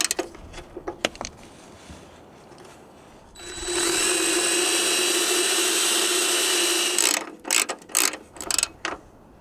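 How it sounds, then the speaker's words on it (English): A wire wheel, spun by a power tool, cleans a truck's ground connection to fix an ABS fault on an Arizona logging road: scattered clanks, then a loud, steady high-pitched grinding whine for a few seconds, followed by more metallic knocks. "we're gonna wire wheel that connection"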